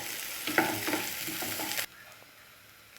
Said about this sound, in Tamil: குக்கிங் ஆயில் நல்லா காஞ்சதுக்கப்புறம் நம்ம பொடியாக நறுக்கி வச்ச பெரிய வெங்காயத்தை ஆட் பண்ணிக்கலாம்.